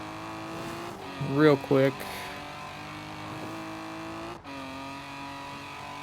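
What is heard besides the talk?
fast car driving in video game Forza Horizon 4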